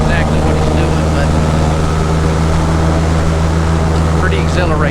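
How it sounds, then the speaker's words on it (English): A tour boat's motor roars loud and close during high-speed turns through a narrow waterway, a constant heavy engine drone with wind and water rush on top. "These boats sound pretty awesome. The motors do."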